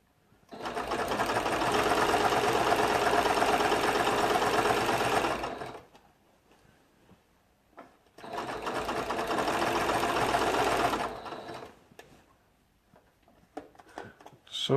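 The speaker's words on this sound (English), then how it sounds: "Can you all see how I'm stitching this down?" A sewing machine stitches down a quilt border in two long, steady runs of rapid needle chatter, each about five seconds, separated by quiet pauses with faint handling noises.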